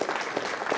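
A medical school audience gives a very short burst of welcoming applause, a brief patter of many hands clapping at moderate volume.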